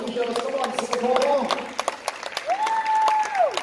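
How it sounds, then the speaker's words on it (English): Stadium crowd applauding football teams after a match in Singapore, a thin spread of claps and distant cheering, partly covered by sustained tonal whistles or horn-like sounds. "Let's give a big round of applause to the two teams on the pitch with all the match officials."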